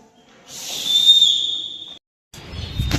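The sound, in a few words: person whistling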